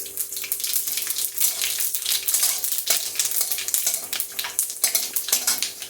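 Panch phoron whole spices dropped into hot oil for a lentil dish, giving a steady crackling sizzle with bursts of spattering and stirring scrapes, fairly loud and close, no talking.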